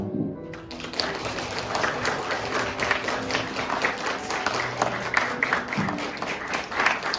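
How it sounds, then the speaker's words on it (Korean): Guests at a wedding ceremony in a Korean wedding hall applaud the bride and groom, a dense, sustained wave of clapping that starts abruptly and fills the room, with some indistinct voices beneath it. "내빈 여러분께서는 따뜻한 박수 보내주시면 감사하겠습니다."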